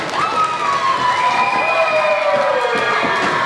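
An indie wrestling crowd at a live event roars and cheers continuously, with high voices and whistle-like shouts rising and falling over a dense, loud wash of noise.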